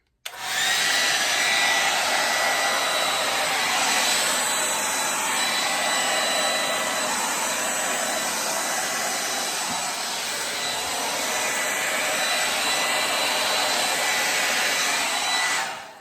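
A hair dryer blows air over an acrylic paint pour on canvas, a loud steady whooshing hiss that runs unbroken for about sixteen seconds with no talk.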